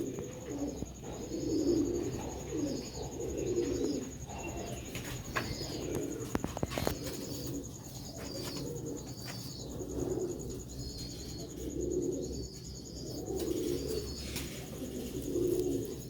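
Pigeons coo close by in soft, low, rounded phrases that repeat every couple of seconds, with faint chirps and a brief flutter of wings in the background.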